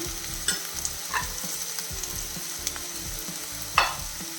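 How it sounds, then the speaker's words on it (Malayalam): Sliced onions and green chillies fry in a pan for chicken curry, giving a steady close sizzle broken by a few sharp stirring scrapes, with no talking. "അപ്പോൾ നമുക്ക് ഇതിൽ എടുത്ത് വെച്ചിരിക്കുന്ന സവാള ഇട്ട് കൊടുക്കാം"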